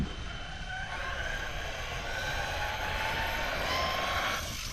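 An Arrma Mojave 8S RC car running at about three-quarter throttle during outdoor speed runs, a steady, fairly loud whining drone with rushing wind noise that holds level throughout, and no talk.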